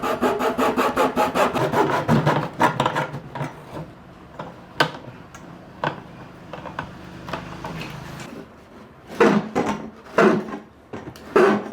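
An old 20 litre plastic water can is cut apart to make a beehive, with rapid rhythmic rasping strokes at first, then scattered scrapes, clicks and bursts of sawing close by.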